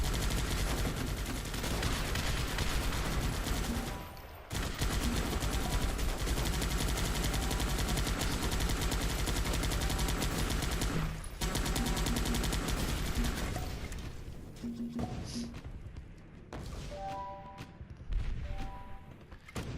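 Dense, continuous bursts of machine-gun and rifle fire rage through a strategy video game battle, with brief pauses before the firing fades into scattered shots and softer tones.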